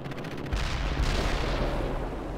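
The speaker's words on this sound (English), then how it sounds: "Commence artillery fire." Artillery fire in the World in Conflict war game: a loud burst of booming explosive rumble that kicks in sharply after half a second and keeps rolling heavily to the end.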